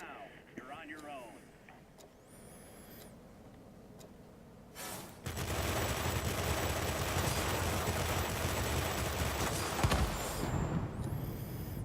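Aircraft guns on an F7U Cutlass in a flight combat video game rattle loudly in a sustained, dense burst through the second half, following quieter engine drone and a few voice snippets.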